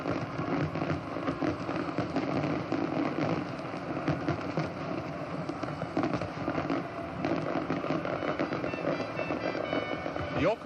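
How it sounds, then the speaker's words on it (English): Fireworks burst and crackle over Sydney Harbour during the Royal Australian Navy's 75th Anniversary Review in 1986. The dense, continuous popping is heard at a distance, blended with a voice talking and broadcast background sound. "The orchestration accompanying the exploding fireworks certainly added another stunning dimension to the display."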